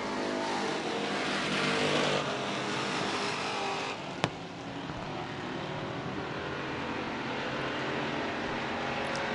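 Race cars roar around a speedway during a heat race, a steady loud engine drone from the passing field that swells and holds throughout, with one brief sharp knock partway through.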